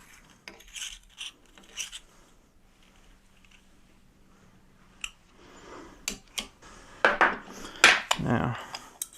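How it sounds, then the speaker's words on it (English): A half-inch wrench tightens a nut on a bowfishing reel seat, giving a handful of close metallic clicks and clanks that grow louder and quicker toward the end, with quiet handling in between. "you're going to take a 1/2 inch wrench and lock that nut down"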